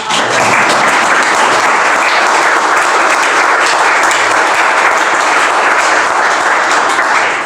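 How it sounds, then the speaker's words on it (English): A large audience applauds loudly and steadily for several seconds, a dense unbroken roar of clapping with no speech. "We have a huge round of applause."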